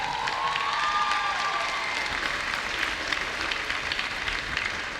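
New university students at a convocation standing and cheering, a crowd's steady applause with shouts and a high whoop rising near the start, sustained throughout.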